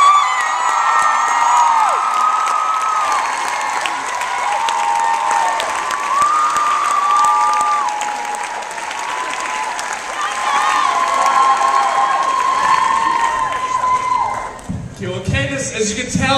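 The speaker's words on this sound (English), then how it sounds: "Please join me with a round of applause" A large audience at an event in Montreal claps and cheers loudly for a sustained stretch, with whoops and shouts over dense applause that fades near the end as a voice begins speaking.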